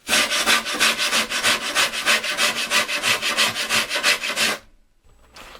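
Rhythmic back-and-forth scraping of an abrasive against a wooden kiteboard, fast and loud, about two strokes a second, stopping abruptly near the end.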